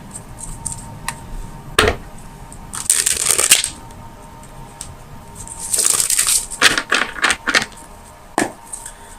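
Tarot cards being shuffled to draw clarifiers, close and fairly loud riffling bursts with sharp card slaps, coming in a few clustered runs separated by short pauses.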